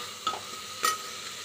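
Food frying in a pan gives a soft, low sizzle, broken by two brief scraping stirs close by, with no one talking.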